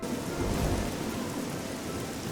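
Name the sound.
rain and thunderstorm in the video game Oblivion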